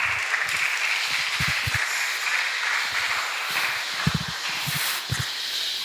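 A church congregation claps together in a dense, sustained burst of applause that fills the room at steady loudness throughout.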